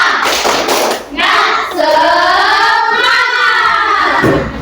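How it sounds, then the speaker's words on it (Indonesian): A school class performs a rhythmic spirit clap, sharp patterned handclaps at first, then many young voices chanting together in unison before a final burst of clapping. "Kita awali tepuk semangat dulu"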